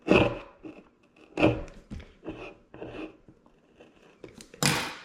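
Cloth rubbing alcohol into sticky sticker residue, giving a series of loud close scrubbing and rasping strokes in uneven bursts, with one longer final rub.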